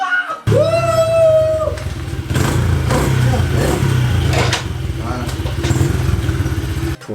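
A motorcycle engine catches on the first kick-start after fresh fuel is added to the carburettor and combustion chamber in a garage, then settles into a loud, steady idle with a few revs and some background talk.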